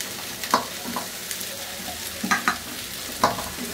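Cauliflower, capsicum and broccoli fry in a pan for a keto chicken-cauliflower dish, a soft steady sizzle broken by several scraping stirs of the spatula, close and clear with no talking.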